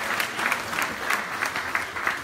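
A church congregation breaks into applause, a dense continuous patter of many hands clapping at moderate loudness, with no speech over it.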